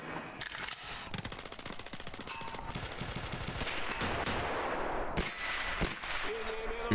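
Rapid automatic gunfire from heavy weapons in a shooter game, a dense rattling stream of shots with a few sharper single cracks, while a voice talks faintly underneath.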